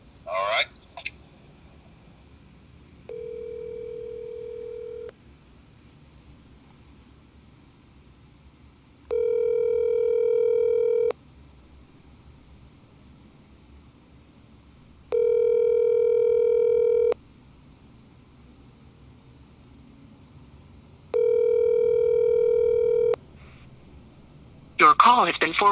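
During a conference call on hold, a telephone line sounds a repeated steady tone, four bursts of about two seconds each separated by silences, with brief talk at the start and end.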